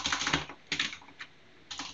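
A computer keyboard is tapped in a few quick clusters of close keystrokes for shortcuts, with short pauses between them and no talking.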